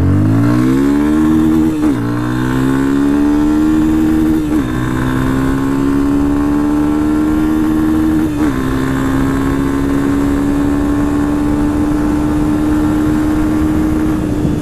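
A brand-new Yamaha Fazer 250 motorcycle engine revving up in several rising pulls, each climbing in pitch before dropping, then settling into a sustained high drone as it rides off, loud and near.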